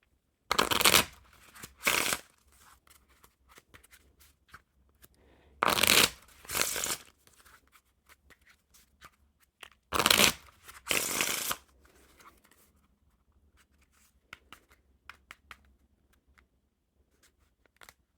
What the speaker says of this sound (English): packet cutting and shuffling them up